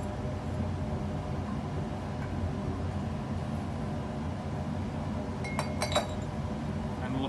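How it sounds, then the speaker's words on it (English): Magnetic stirrer bar lifted out of a glass reaction flask in a chemistry lab: two or three small, bright glassy clinks near the end, over a steady hum of background noise, with no voices. "So we're going to remove the stirrer bar."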